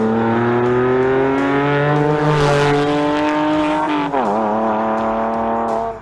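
A naturally aspirated flat-six sports car engine revs loud and close, climbing steadily in pitch, dropping sharply mid-rev, then rising again with a smooth, sustained, multi-layered howl and no talking.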